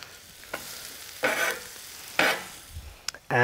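Shallots hit melted butter in a pan over a fire, giving short bursts of sizzling and stirring scrapes separated by quieter gaps.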